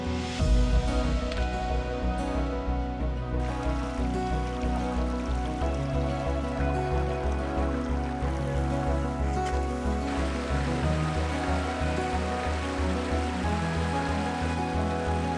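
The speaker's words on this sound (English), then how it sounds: "Dinner by the river, nothing left to probe. Just the sound of water" River water rushing steadily beside a backpackers' camp on New York's tallest mountain, a constant full wash that stays even throughout with no voices.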